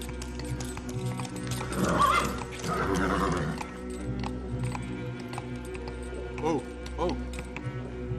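A horse's hooves clip-clop close by while it neighs and whinnies in short bursts, in a quiet evening setting.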